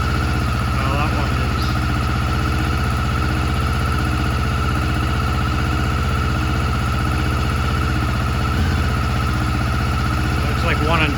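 A 1989 Honda CB1 inline-four runs on only two cylinders, giving a loud, steady, uneven idle with a throbbing pulse. It continues without a break, with a few faint knocks and clicks around the bike.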